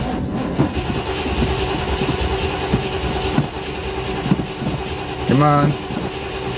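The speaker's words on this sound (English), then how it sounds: "Now let's see if the car will start." A Chevrolet Camaro that has sat unused cranks and fires with a brief rising rumble near the end, under a steady background drone, with a person speaking briefly.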